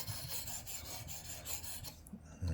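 A Kunwu Pulsar knife drawn lightly along a fine sharpening stone to remove the burr, giving steady rasping scrapes in a repeated back-and-forth rhythm, close and fairly quiet, with no voices.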